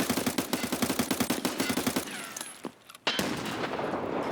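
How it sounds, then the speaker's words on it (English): Blind firing in a video game, a rapid steady stream of close, loud automatic shots for about two seconds, followed by a quieter lull and then a sudden blast of noisy rumble. "That was me firing, just blind firing to scare him away."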